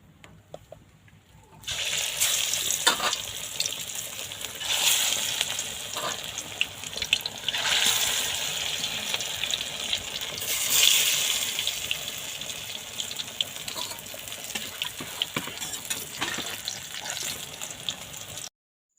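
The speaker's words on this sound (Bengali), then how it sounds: "তো এখন আমি চুলোয় কড়াই দিয়ে গরম তেলে পাতাটা সুন্দর করে ভেজে" Pumpkin leaves with lentils drop into hot oil in a kadai on the stove, bursting into a loud hiss that settles into a steady, close sputtering sizzle and cuts off near the end.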